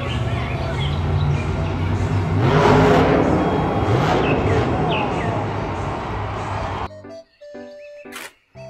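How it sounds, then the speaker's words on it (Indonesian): A toy truck rumbles with a revving motor roar that swells and fades, followed by short electronic beeps and a brief jingle. "Mobil truk monster."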